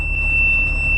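Handbrake warning buzzer on a Case IH Magnum 7220 Pro tractor gives a steady, unbroken high-pitched tone lasting the whole second, over a loud, low engine rumble.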